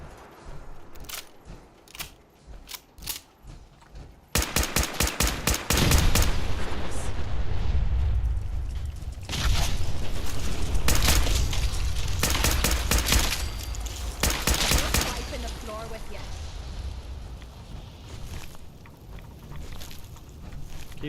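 Gunfire in Fallout 4: scattered single shots, then long dense rapid volleys with brief pauses between bursts, loud and close throughout.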